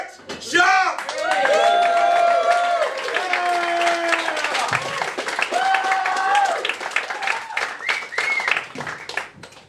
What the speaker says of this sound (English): Big round of applause for the one and only Brett Sharpe!